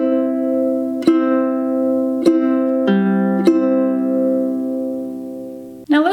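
A ukulele strums chords in a steady pattern, a few sharp strokes ringing out with sustained tones between them, close and clear with no voices.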